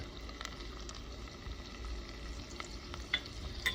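Butter, flour and rendered pancetta fat cook together into a roux in a pan, making a faint, low sizzle broken by a few light stirring scrapes.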